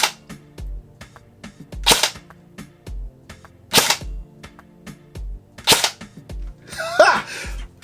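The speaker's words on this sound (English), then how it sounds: "I'm going to take a couple of shots with my primary" Semi-automatic shots come from an airsoft rifle fitted with an Acetech Lighter BT Bluetooth tracer unit. Sharp cracks fall at steady intervals of about one to two seconds, with a soft mechanical cycling between them and a brief voice near the end.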